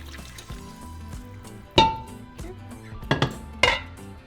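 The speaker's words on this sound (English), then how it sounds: "So we're going to strain the broth." Beef broth is poured through a strainer in a kitchen, with a soft liquid trickle broken by a few sharp metallic clanks of pot and strainer, close and distinct, with no voices.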